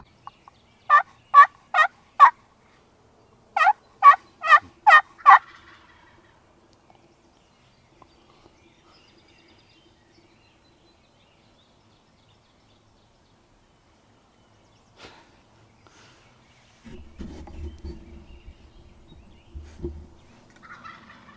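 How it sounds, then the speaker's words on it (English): A wild turkey gobbles during a hunt in two loud, rapid bursts of rattling gobbles, each several pulses long, followed by a long quiet stretch and then faint rustling and low rumbling near the end. "He's gobbling pretty strong, so hopefully this is about to happen."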